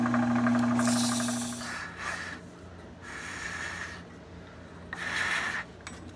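A brass-fitted salt shaker being sanded with 180 grit sandpaper, close rubbing and rasping in three bursts with brief pauses between, no talk.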